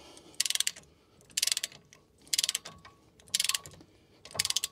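Wheel bolts on a Tesla Model are snugged with a ratchet while fitting 20mm double-bolted wheel spacers, five quick bursts of rapid clicking pawl ticks at a steady rhythm, close and clear, no voices.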